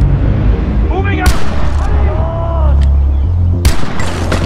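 Gunfire in the video game Far Cry 4 as enemies are dropped with headshots: two loud, sharp shots about two seconds apart over a dense game soundscape with warbling, voice-like tones.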